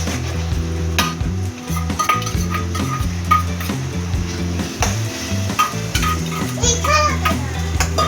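Food is stirred in a hot cooking pan on a home stove, with a steady sizzle of frying and scraping against the pan, while voices and children can be heard in the background.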